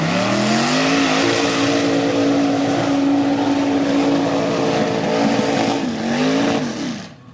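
A 1979 Dodge 440 truck makes its mud bog run. The engine roars loud and close, holding a sustained high-rev drone that dips, climbs again and then fades out at the end.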